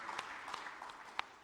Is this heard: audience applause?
yes